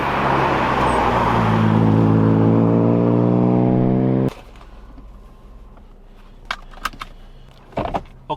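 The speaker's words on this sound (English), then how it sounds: "drive it down the road a bit" 2006 Mercedes-Benz E350 4matic W211 engine runs loud and close with a steadily rising drone, as if accelerating through gears, then cuts to quiet with a few sharp knocks and clicks.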